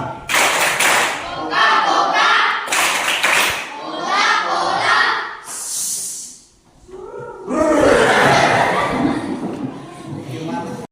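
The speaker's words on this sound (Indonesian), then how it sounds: "Tepuk Coca-Cola." A group of students in a school gathering performs the rhythmic Coca-Cola clapping chant, sharp claps falling in bursts with chanted voices, a brief pause, then a louder collective round of clapping and cheering.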